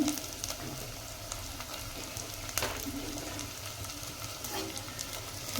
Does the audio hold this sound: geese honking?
no